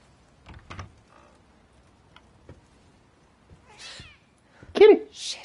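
Cat meowing in The Medium video game, a short mid-pitched meow rising clearly near the end after quiet stretches, with a voice speaking around it.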